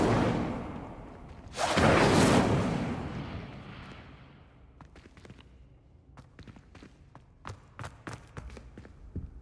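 A fire spell cast in Hogwarts Legacy bursts out as a loud whooshing roar that swells and fades over a couple of seconds, followed by a run of sharp, sparse crackles and footstep-like ticks.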